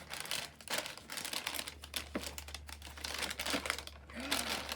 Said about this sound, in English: I think I'm gonna start cutting the bags